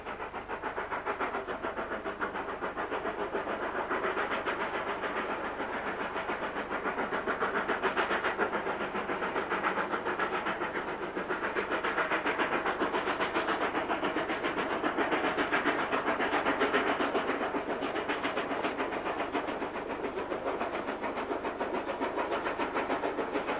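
A K37 narrow gauge steam locomotive on the East Lancashire Railway hisses steadily and loudly as it runs, a continuous broad rush of steam with faint rhythmic chuffing and no talk.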